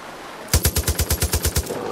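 A light machine gun in Far Cry 5 fires a rapid burst of about a dozen evenly spaced, loud, close shots, then falls silent.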